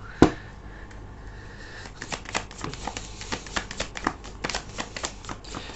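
Tarot cards are handled and drawn, starting with one sharp tap followed by a run of quick papery flicks and soft slaps in an uneven rhythm, close and quiet with no talking.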